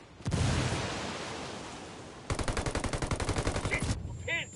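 Automatic gunfire in a video game as the player comes under fire: a loud, sustained wash of noise gives way to a rapid, evenly spaced burst of shots close by, then the firing stops abruptly.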